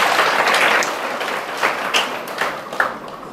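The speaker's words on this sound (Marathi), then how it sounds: "त्यांच्यासाठी जोरदार थोडं टाळी वाजवा" An audience at a devotional Shiva discourse claps loudly, a dense burst of applause that thins into scattered, sharper claps toward the end.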